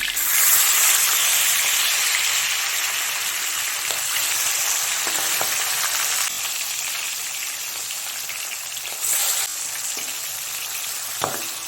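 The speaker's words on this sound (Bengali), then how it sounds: "গ্যাসের ফ্লেমটাকে হাই ফ্লেমে রেখে মাছগুলোকে 3 মিনিটের মতো ভেজে নেব ভালো করে।" Pieces of rui fish fry in hot oil over a high gas flame, giving a loud, steady broadband sizzle throughout with a few sharper crackles and spits, no voices.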